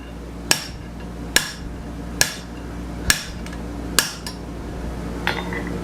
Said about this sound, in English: So you just put the nub in there on the guillotine tool and whack it, turn it, whack it, turn it, whack it